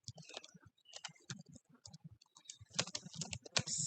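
Java code typed on a computer keyboard, a quick, uneven run of close, crisp key clicks and taps with brief pauses between bursts.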